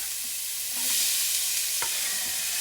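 Onion sweating in a butter substitute in a skillet: a continuous soft, hissing sizzle with a brief stir or scrape partway through and a faint tap near the end, no voices.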